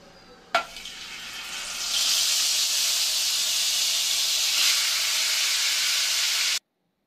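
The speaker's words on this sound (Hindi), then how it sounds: "उसी के अंदर मैंने एक अदरक लहसन की क्यूब्स डाल दी है और आधा किलो इसमें मैंने चिकन डाल दिया है" Ginger-garlic cubes and half a kilo of chicken go into hot oil previously used to fry okra: a single clunk, then a loud, steady sizzle and hiss that carries on for several seconds before cutting off abruptly.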